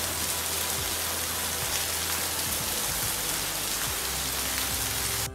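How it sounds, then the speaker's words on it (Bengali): Heavy monsoon downpour pouring steadily and loudly, a dense continuous hiss of rain drumming on surfaces close by, unbroken for the whole stretch with no voices. "চা রেডি করতে করতেই আবারও মুষলধারে বৃষ্টি শুরু হয়ে গিয়েছে"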